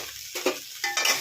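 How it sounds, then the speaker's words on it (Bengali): A spoon stirs a Bengali potato, raw banana and eggplant curry seasoned with Kashmiri chili powder and salt in a hot pan. Two or three short scraping strokes sound over a low sizzle, close up and without speech. "দিয়ে একটু নাড়াচাড়া করে নিচ্ছি।"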